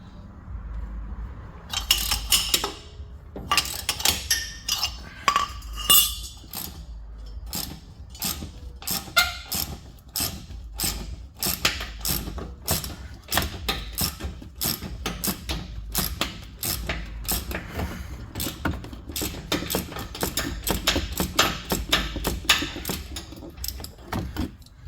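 Socket wrench ratchets on a suspension nut of a 2017 Dodge Ram 1500 pickup, a long run of rapid close clicking strokes in uneven bursts, with a few metallic clunks between them.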